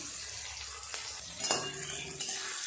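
Whole coriander and cumin seeds fry in a pan with a soft, steady sizzle, while a spoon scrapes and clinks against the metal now and then, all quiet and close with no talk.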